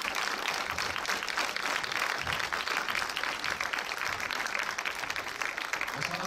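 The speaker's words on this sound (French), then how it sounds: "Je vous demande d'accueillir et d'applaudir très fort le réalisateur, Monsieur Jean-Pierre Améris." Dense, sustained applause fills a cinema at a film premiere as the audience welcomes director Jean-Pierre Améris, a steady close wash of many hands clapping without pause.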